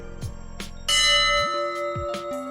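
The Abana Bell at the Church of St Andrew, Cleveleys, struck once and ringing loud and close, its bright metallic tone sustaining and slowly fading after a few softer taps beforehand.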